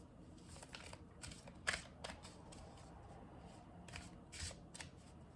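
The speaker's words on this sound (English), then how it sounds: "I'm just going to now start shuffling the cards" A deck of tarot cards being shuffled, quiet, soft riffling and flicking bursts in an irregular rhythm, close but faint against a low background hum.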